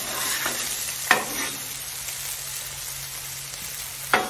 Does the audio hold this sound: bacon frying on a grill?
yes